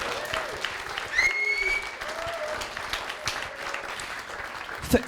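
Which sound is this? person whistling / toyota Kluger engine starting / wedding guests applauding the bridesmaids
wedding guests applauding the bridesmaids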